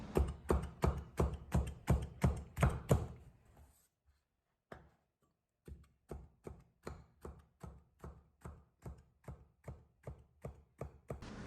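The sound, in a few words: knife slicing luffa gourd diagonally into small pieces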